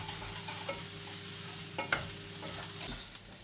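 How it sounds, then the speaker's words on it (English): Rice is stirred in oil and butter in a pan for a pilaf, giving a soft, low sizzle with a few scraping knocks of the spoon against the pan. It is near but quiet, with no talk. "get that mixed round, get it coated in the oil and the butter that's in the pan"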